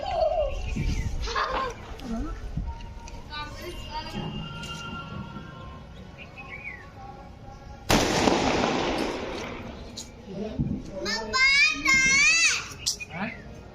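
Firecrackers are set off one at a time at the close of a festival, with sharp pops, then a loud crackling, hissing burst near the middle, while children chatter and shout throughout.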